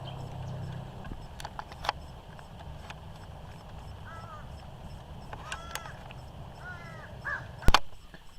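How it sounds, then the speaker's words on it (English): Three crows caw in short, scattered bursts at a distance over steady rain in the Everglades, with a few sharp knocks and a loud clack near the end. "there's 3 crows, a little omnious, but they're going crazy"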